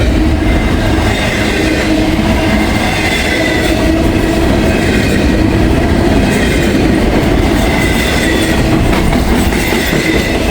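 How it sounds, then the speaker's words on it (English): An empty grain freight train rolls past close by, loud and continuous, its cars rattling with a rapid clickety-clack over the rails and no voices. "There's supposed to be a empty grain train behind this guy."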